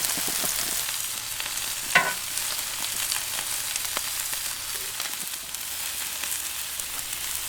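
Bacon rashers and oil-sprayed mushrooms fry on a Q griddle with a steady, even hiss of sizzling fat, broken by a sharp clack of a utensil and light scraping now and then, close by with no talk.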